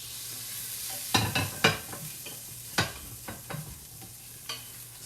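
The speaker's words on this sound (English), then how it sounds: "get a wooden spoon that has a flat edge, and scrape up those bits, and they'll come right up" A wooden spoon scrapes browned bits from a hot pan while deglazing for chicken piccata, giving sharp scratchy strokes in uneven bursts over a steady soft sizzle, close and alone.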